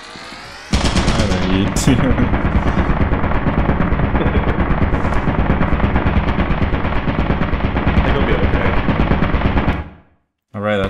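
Turret gunfire in a video game, a loud, rapid, evenly spaced mechanical burst running for about nine seconds before cutting off abruptly, with a voice speaking briefly over it.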